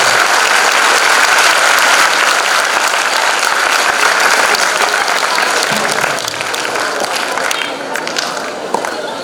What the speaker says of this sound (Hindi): मैं चाहता हूँ एक बार जोरदार तालियों से आप लोगों का